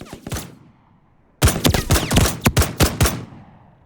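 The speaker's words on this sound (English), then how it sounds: "we can't open that yet while we're being shot" Gunfire in the video game Reaper Actual: a couple of sharp shots, a short pause, then a loud rapid string of close, punchy shots and bursts.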